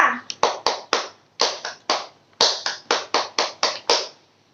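Seventh-grade class clapping out the rhythmic tepuk PPK chant, sharp close hand claps in quick patterned groups with short pauses between phrases, crisp and loud.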